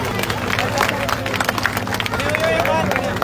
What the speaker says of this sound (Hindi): आइए जोरदार तालियां गोपाल जी की।